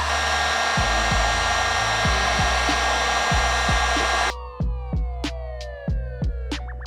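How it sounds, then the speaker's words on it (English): A power sander works over a Tesla Model 3 widebody kit part with a loud, continuous whine, broken by periodic scraping strokes, then winds down into a falling, fluttering hum with intermittent knocks. "Giving this a quick sand and polish"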